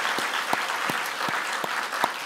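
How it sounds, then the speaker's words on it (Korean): A church congregation at a retirement service claps together in a slow, even rhythm, each sharp hand clap ringing out distinctly in the hall for a couple of seconds. "하나님께 영광의 박수 한번 돌립시다."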